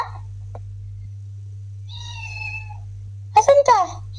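A cat lets out a couple of sharp, fairly loud meows near the end, over a steady low hum and a faint chirpy tone, with no talking.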